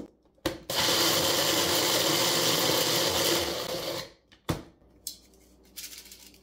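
A blender whirs loudly and steadily for a few seconds, then cuts off, followed by a couple of short clunks and rattles.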